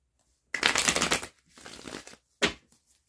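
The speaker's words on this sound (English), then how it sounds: "Give this one another quick shuffle." A deck of cards riffle-shuffled up close: a long crisp burst of rapid flutter, a softer second riffle, then a quick bridging snap.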